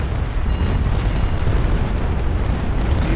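Sailing warships trading cannon fire in the Naval Action game, a dense continuous rumble of booming broadsides and explosions, loud and close with no clear gaps between blasts.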